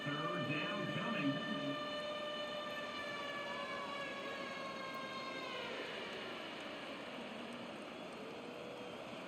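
Loud, sustained crowd roar fills a college football stadium during an Army Black Knights versus Air Force Falcons game as cadets scream like a jet on takeoff, a dense wall of noise with a train-horn-like sustained tone rising through it.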